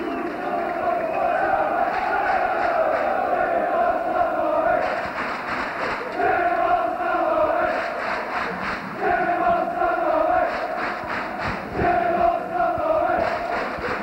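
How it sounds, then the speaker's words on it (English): Football crowd at a Carlisle United v Burnley match cheering and roaring as a Mexican wave travels around the ground, a dense sustained roar that swells in repeated surges with chanting voices. "Bring out the cheers and the Mexican wave."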